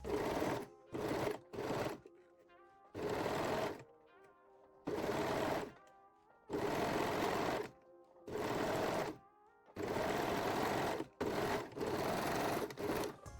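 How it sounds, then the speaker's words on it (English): A serger or zigzag sewing machine stitches the back center seam of a Brazilian thong, running in loud, close bursts of about a second each, separated by short pauses, with no talking. "sew the back center seam. You can use serger or zigzag stitch"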